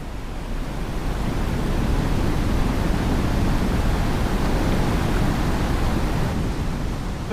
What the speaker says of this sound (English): These falls are known locally as Tisisat, which translates as the water that smokes